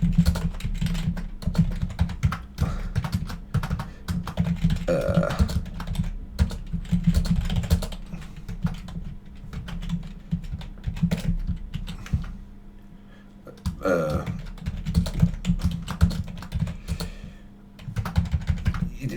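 Fast, continuous clicking of typing on a computer keyboard, close and crisp, in bursts with brief pauses and a short quieter lull midway.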